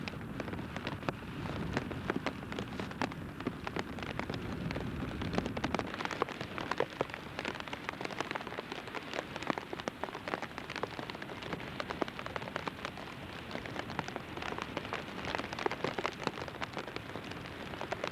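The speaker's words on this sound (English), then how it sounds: "Ah, rain's too strong." Heavy rain pelting a beach, a dense, loud, unbroken patter of drops hitting the surface throughout, with no voices.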